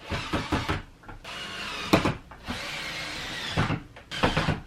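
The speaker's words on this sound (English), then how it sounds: "So now I'm going to tighten up the 4 screws that hold the motor body on to the bracket." A power driver tightens the four screws holding a ceiling fan's motor body to its mounting bracket, in four or five short whirring bursts with brief pauses between, loud and close.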